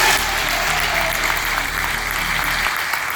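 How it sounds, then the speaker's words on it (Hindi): Seminar audience clapping in a large event hall, a continuous broad wash of applause from many hands at moderate level, fading abruptly near the end. "एक बार जोरदार तालियां हो जाए"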